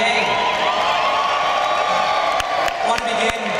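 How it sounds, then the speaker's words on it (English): A graduation crowd at the NJIT 2013 commencement cheers and whoops in a large space, a steady wash of voices and applause with a few sharp claps near the end. "you can cheer and laugh and have fun now"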